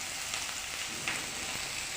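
Food frying together in a pan sizzles with a steady, close hiss and faint crackle, running alone without any voices.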